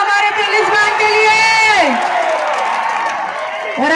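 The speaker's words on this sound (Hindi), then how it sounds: "जोरदार तालियां हमारे पुलिस बैंड के लिए" A crowd cheers and whoops for a police band at an outdoor Sunday fun day in Hyderabad's Old City, with loud, close sustained yelling and voices over clapping that swells then eases.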